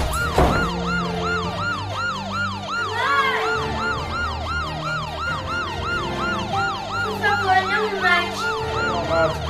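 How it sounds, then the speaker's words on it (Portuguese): Police siren in a Brazilian film wails loudly and continuously in a repeating rising-falling pattern, with a second siren overlapping briefly. "essa sirene é da polícia"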